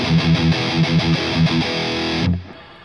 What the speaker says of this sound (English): So I'll put the boost. Oh, that's gonna get loud.